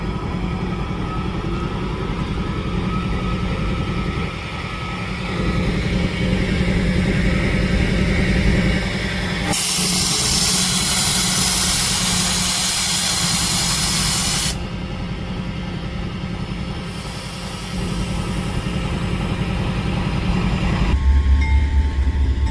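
A CSX freight train rolls past on the mainline of the Grand Rapids Subdivision, a continuous close grinding rumble of wheels on rail with a loud hissing burst in the middle.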